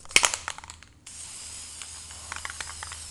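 A spray paint can rattles briefly, then releases a steady close hiss of spraying onto an airsoft gun, with a few faint clicks and knocks underneath.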